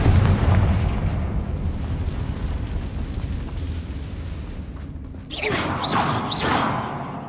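A Confringo spell explosion in the Hogwarts Legacy video game, a deep rumbling boom that rolls on for several seconds, followed by a burst of crackling, sizzling magical effects.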